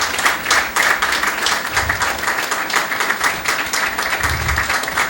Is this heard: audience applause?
yes